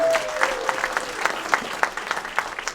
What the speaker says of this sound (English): Let's have a big round of applause for Michael Williams.